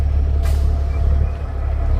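A logging truck from a timber harvesting crew idles with a deep, steady diesel rumble close by, broken early on by a brief, sharp hiss of its air brakes.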